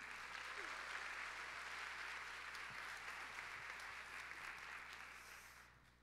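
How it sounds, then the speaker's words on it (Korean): A church congregation at a youth worship service applauds to welcome a speaker forward, a broad steady wash of clapping that holds evenly, then thins and fades toward the end. "98돌의 심예진 자매 나오실 때 우리 박수로 환영하도록 하겠습니다."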